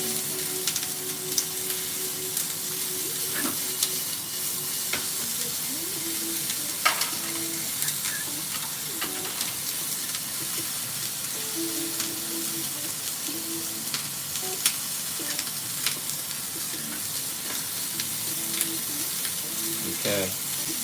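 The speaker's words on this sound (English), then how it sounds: "So just saute it until they are slightly brown" Food sautéing in a pan to be browned for onigiri rice balls, a steady soft sizzle and hiss with scattered clicks and scrapes of stirring throughout.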